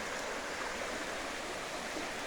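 Schuylkill River water flowing, a steady, dense rushing hiss with no breaks, close and constant.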